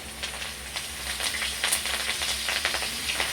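Curry leaves dropped into hot oil with chopped garlic sizzle steadily, with sharp crackles and pops spitting through the frying hiss. No one speaks.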